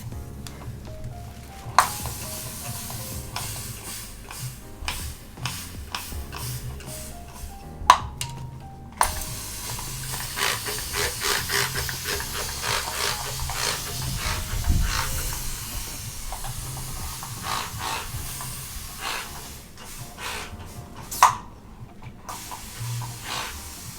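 Steady hissing spray of water onto braided hair, with short sputtering bursts and a few sharp clicks, fairly close, continuing for a long stretch with no talking.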